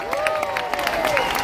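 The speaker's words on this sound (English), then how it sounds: "A big round of applause," Crowd at a Free Palestine rally in Melbourne claps steadily, with scattered cheers and raised voices riding over the close, continuous applause.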